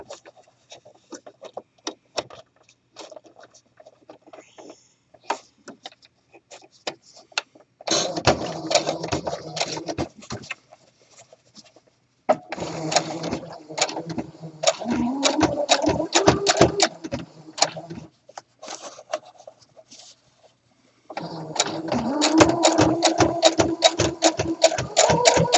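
A sewing machine stitching down a flat felled seam runs in several bursts of quick, even mechanical clatter, separated by short quiet pauses and small handling noises, close and fairly loud.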